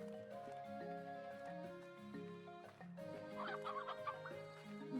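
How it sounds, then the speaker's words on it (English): A chicken clucks in the Slime Rancher video game, short repeated clucks layered over steady tonal game music. "Nice to see you, chicken."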